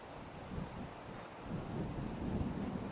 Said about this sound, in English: Now the wind is blowing snow on me from the trees and everything.